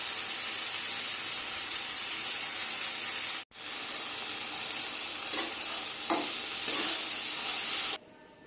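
Vegetables fry in a pan with a steady, loud sizzle that holds for several seconds. A few brief stirring scrapes come through near the end before the sound cuts off abruptly.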